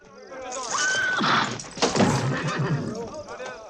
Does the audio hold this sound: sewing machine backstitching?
no